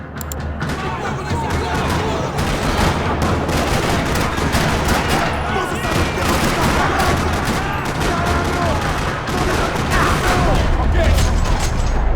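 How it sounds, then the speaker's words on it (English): Dense, continuous gunfire rattles throughout a parking lot firefight in Max Payne 3, overlapping bursts and rapid shots with a steady low rumble beneath, loud and sustained. "Another parking lot rattling with gunfire."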